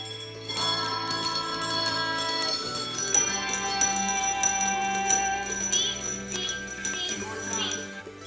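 Handbells played by students at a school ring out in a sequence of clear, sustained tones, several notes overlapping and lingering, with faint voices in the background.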